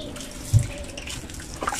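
Weak water flow from a hose, once straightened after being kinked, runs as a soft, steady trickling hiss with a brief splash, faint and close, with no talk.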